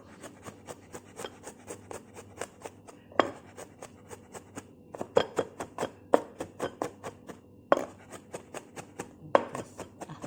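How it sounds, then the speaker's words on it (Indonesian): Beef being minced for burgers with a knife on a board, a steady run of sharp, close chopping taps in quick irregular bursts, separated by short pauses. "Kita cincang."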